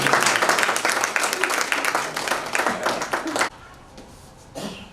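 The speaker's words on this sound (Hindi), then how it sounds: "एक बार जोरदार तालियां आपको" Vigorous audience applause at a Hindi book launch, dense clapping for about three and a half seconds before cutting off abruptly, followed by a quiet pause and a brief faint sound.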